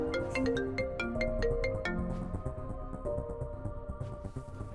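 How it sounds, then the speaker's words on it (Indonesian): A mobile phone ringtone plays a bright, repeating melodic pattern, moderately quiet, with some background noise underneath. "Mama aku telepon, aku angkat dulu ya."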